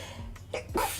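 A single sharp sneeze bursts out close by, preceded by a brief inhale, with no talking.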